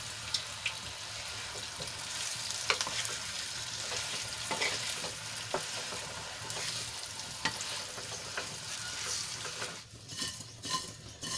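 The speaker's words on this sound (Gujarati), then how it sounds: "મુઠિયાને સરસ રીતે વઘારમાં મિક્સ કરી લઈશું" Steamed bottle gourd muthiya are stirred through a hot oil tempering in a pan, a constant hiss of frying overlaid with repeated spoon scrapes and taps, easing off briefly toward the close.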